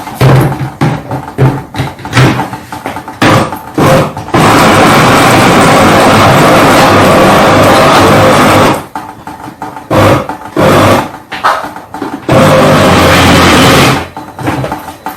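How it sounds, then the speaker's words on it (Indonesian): A blender grinds fish for meatballs in a home kitchen, running loud and steady in two long bursts, with shorter clatters and handling noises between them. "kita blender nanti kita kasih tepung"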